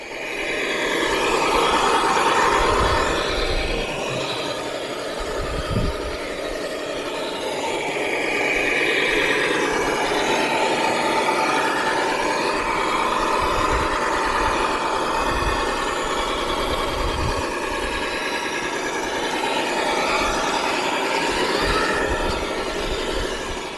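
A Tamiya Super Clod Buster Black Edition RC monster truck driving outdoors, its electric motor and drivetrain whirring steadily and loudly throughout with rough broadband noise and occasional low thumps, no voices present.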